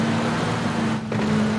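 Car engine humming steadily while driving in the PUBG battle royale game, a constant close drone with a brief dip midway and no talk over it.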